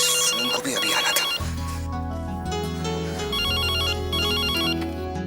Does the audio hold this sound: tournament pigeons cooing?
no